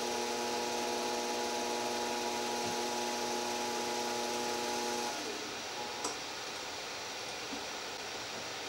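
A DC spindle motor on a CNC machine hums with steady tonal whine at 3,000 RPM, then spins down and falls silent about two-thirds through, leaving faint background noise and a small click.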